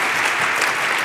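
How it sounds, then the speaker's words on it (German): Audience applause fills a hall at a Future Skills Day event where university finalist teams present their projects. It is a dense, steady wash of many hands clapping at once, loud and continuous, with no voices over it. "Applaus"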